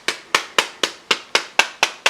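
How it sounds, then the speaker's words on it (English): A small hammer gently pecks lead came into place on a stained glass piece, nine sharp, evenly spaced taps in a steady rhythm, close and crisp with no talk. "hammer and just kind of peck that"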